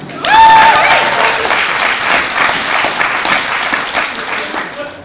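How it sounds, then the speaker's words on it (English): Comedy club audience applauding, a loud burst of clapping and cheering that rises quickly, then holds steady and gradually thins over several seconds. "So a round of applause for Rupert again."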